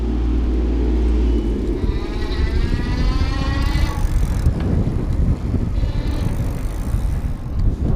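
A Pedego Platinum Interceptor electric bike is ridden outdoors, a close, rough rumble of tyres and wind buffeting with a faint rising motor whine.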